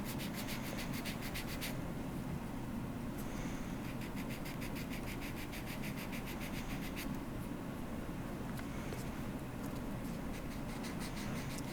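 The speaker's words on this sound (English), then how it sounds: "I'm using the fine sanding pad here because I'm removing material." Quiet, steady scraping of a fine sanding pad removing material, rubbing back and forth in quick, even strokes, close up, with no talking.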